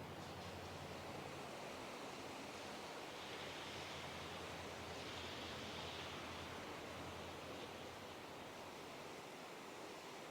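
A river flowing near Krasnaya Polyana, Sochi, heard as a steady, dense rushing wash with no breaks, fairly soft and even throughout.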